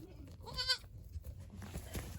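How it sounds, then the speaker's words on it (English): A days-old baby goat bleats once, a clear wavering cry close by, followed by soft rustling and handling noises in a farm pen. "You're definitely a goat."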